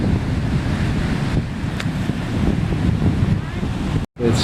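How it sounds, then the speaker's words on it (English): Ocean surf of four to five foot waves near high tide at Hanna Park Beach in Jacksonville, Florida, a continuous loud roar heavily mixed with wind buffeting the microphone, with a brief dropout near the end. "I'd say about 4 to 5 foot surf"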